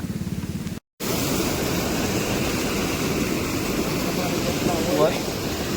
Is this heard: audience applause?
no